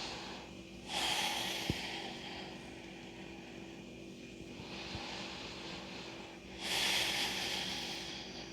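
Slow deliberate breaths drawn in and let out during a home yoga stretch flow, two airy breath swells about six seconds apart over a low steady background hum, with no talking.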